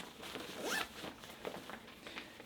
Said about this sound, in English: got another zippered pocket